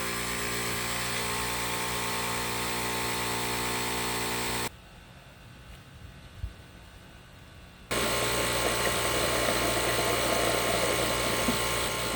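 A Flo n Go gas tank transfer pump on a Duramax setup runs at 12 PSI with a steady, high-pitched electric whine, loud and constant, cutting out briefly in the middle before resuming at full volume.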